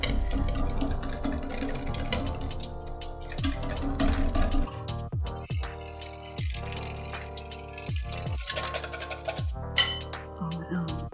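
Dalgona coffee is whisked by hand in a bowl, producing fast, uneven clattering and clinking strokes at close range that continue throughout with brief breaks.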